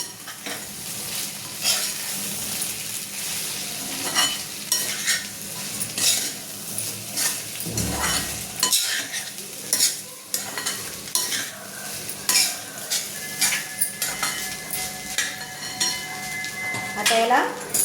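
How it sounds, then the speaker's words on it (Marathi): Paneer pulao being stirred together in a pan, with a continuous sizzle under repeated scraping and clinking strokes of a spoon against the pan. The sound is close and steady, with faint talk now and then. "आता याला छान एकत्र करायचं।"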